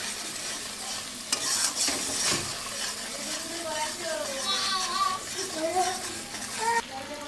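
Ginger and green chili paste stirred in a frying pan, a soft sizzle with gentle scraping strokes while a voice talks over much of it.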